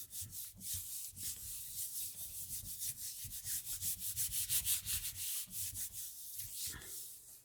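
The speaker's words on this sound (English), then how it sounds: "I'll just use the back of this one. I'm rubbing it away like so." Steady rubbing of a gelli print with the back of a household item, a continuous close scratchy friction sound with rhythmic back-and-forth strokes, heard alone without talk.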